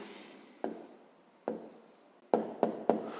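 Pen writing on paper, made of several short scratchy strokes separated by pauses, with a quick cluster of three strokes at the end, close and quiet.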